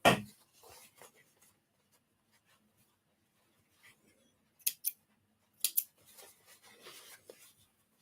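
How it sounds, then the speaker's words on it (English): Scissors trim loose craft thread ends in a quiet room, giving a few crisp, close snips in short clusters separated by silence. "Now I've got a bunch of loose ends to trim, so let me do that first."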